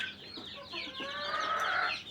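Young chickens cluck and cheep close by as they peck at their feed, in a short burst of overlapping high chirps with no one talking.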